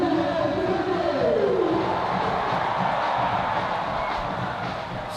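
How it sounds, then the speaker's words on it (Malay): A football crowd at Sultan Mizan Zainal Abidin Stadium roars steadily during Terengganu FC against Kedah Darul Aman FC, a broad continuous wash of cheering with a rising chant-like voice swell early on. "Sorakan semakin kuat."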